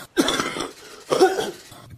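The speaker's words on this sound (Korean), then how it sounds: "왜 기침을 이렇게" Two sharp, close coughs, the second after a short pause, each a harsh throaty burst.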